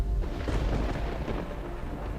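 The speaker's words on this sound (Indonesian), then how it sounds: "Kok badai ya?" Thunder rumbling through a storm, a broad, continuous roar with a dull low boom near the start and a heavy rumble filling the whole stretch.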